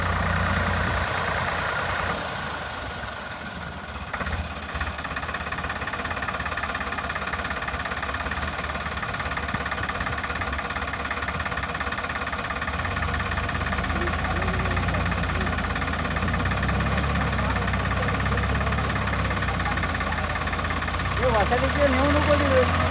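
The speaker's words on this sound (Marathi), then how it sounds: "फायनली ट्रॅक्टर निघालेला आहे" A farm tractor that has just pulled free of deep village mud runs with a steady mid-pitched engine drone, close and continuous, with a faint voice now and then over it.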